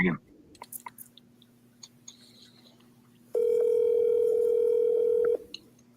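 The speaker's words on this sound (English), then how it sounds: "Oh, ringing." A single long telephone ringing tone sounds through the handset during a call, steady and clear for about two seconds against quiet background hiss, with faint clicks before it.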